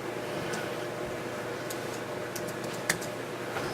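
Faint clicks of a computer keyboard tap out a short number, a few soft keystrokes in an otherwise quiet room.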